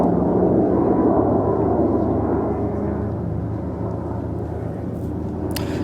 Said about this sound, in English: I'm pretty sure this is one of these RQ-170 Sentinel drones. And it's the weirdest sound.